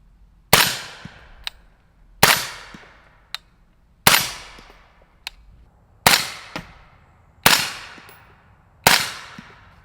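Unsuppressed BCA 10 rifle shots, six sharp loud cracks spaced about two seconds apart, each with a ringing decay and a fainter metallic click between them, outdoors.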